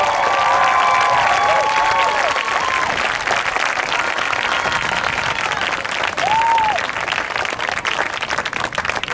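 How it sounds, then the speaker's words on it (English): A large audience at a high school marching band home show breaks into loud, sustained applause and cheering, with occasional whoops over the steady clapping. "How about another round of applause for these awesome musicians?"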